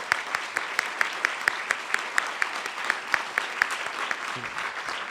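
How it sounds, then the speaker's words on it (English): Applause from a seated audience at the Pulitzer Center's 10th anniversary event, steady crisp claps filling the room at a moderate distance, continuing without talk. "Give him a round of applause"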